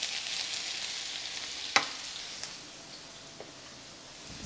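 Diced medium onion frying in a pan gives a soft, steady sizzle with a sharp clink of a utensil partway through, then settles into a quieter hiss.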